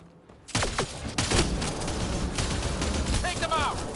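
Gunfire from Mass Effect: Andromeda erupts suddenly after a quiet moment, sharp close shots followed by an ongoing fusillade, with a voice speaking amid the shooting.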